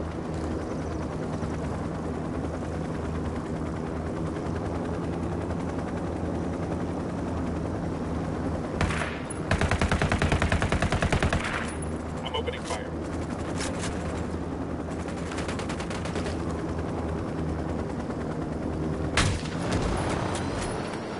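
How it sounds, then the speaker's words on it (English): Bursts of automatic rifle fire in the Ghost Recon Wildlands game, loud clustered volleys around the middle and near the end over a steady engine-like rumble, with some voices in between. "Shooting."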